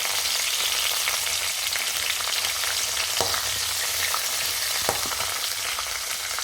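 Spices, green chilli and curry leaves fry in hot oil, making a loud, continuous close-up sizzle with a few sharper crackles and pops and no voices.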